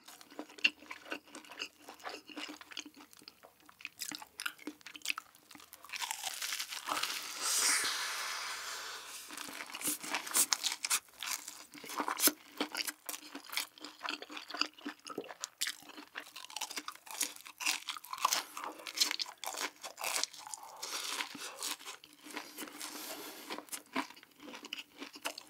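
Crunchy fried cheese sticks bitten and chewed up close during a Korean mukbang, loud crisp crunches and crackling bites coming in repeated bursts with no talking.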